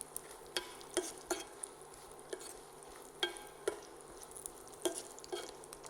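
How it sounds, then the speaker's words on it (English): Sultanas and cashews stir in ghee, soft quiet frying under a string of sharp spoon clicks and taps against the pan, near and with no talk. "I'm just going to fry that off with the ghee as well."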